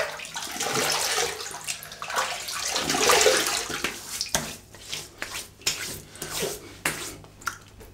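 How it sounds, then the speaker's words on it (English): Water splashes as a face is wetted before a shave. Close, irregular sloshing and dripping comes in bursts and eases into separate splashes toward the end. "Let's wet the face."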